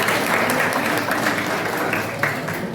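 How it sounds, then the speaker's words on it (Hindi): Audience applauding at an NSS camp talk, a dense, steady burst of many hands clapping together, moderately loud and sustained throughout. "ताली बजाओ जरूर एक बार होगा।"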